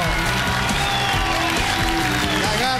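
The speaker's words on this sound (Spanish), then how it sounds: "¡Fuerte el aplauso para Murdo!" Studio audience applause fills a television comedy show set, a steady, dense wash of clapping with some cheering that holds loud from start to finish.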